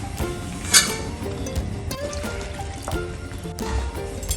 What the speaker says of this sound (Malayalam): ഇതിനകത്തോട്ട് നമ്മുടെ ആ കടല വേവിച്ച വെള്ളം കുറച്ചുകൂടെ ചേർക്കാം.